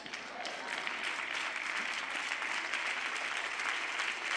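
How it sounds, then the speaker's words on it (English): A church audience gives polite, golf-style applause, a steady, even wash of clapping that holds at moderate loudness throughout with no distinct voices on top. "That was a PGA clap"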